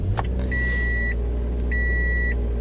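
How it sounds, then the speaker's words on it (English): Toyota Yaris seatbelt warning chime: two clear electronic beeps, each about half a second long and spaced a second apart, over a low steady cabin hum. "You get your seatbelt beeps and your stereo here."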